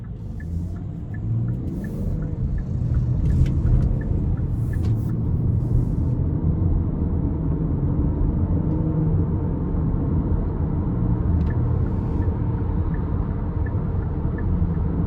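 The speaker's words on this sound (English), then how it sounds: "we're gonna go ahead and take this Carnival out on the road for a quick test drive" A 2022 Kia Carnival LXS minivan with an 8-speed transmission driving on the road, a steady low engine and road rumble heard from inside the cabin, continuous and fairly loud, with a few faint clicks and no talking.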